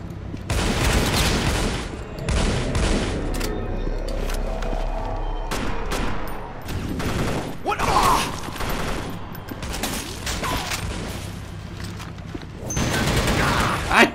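Sustained gunfire from a Gamma turret in the shooter game TimeShift, loud bursts and rattling volleys running nearly the whole time, with someone speaking over parts of it.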